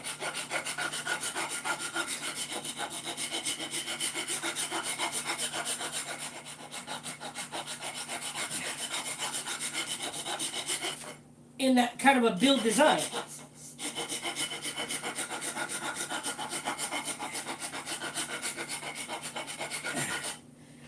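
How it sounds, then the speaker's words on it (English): A wooden guitar body being filed and sanded by hand, steady close rasping strokes repeating over a long stretch, a brief pause and some louder scraping midway, with music playing faintly behind. "So you just, file away, sand away at your little heart's content."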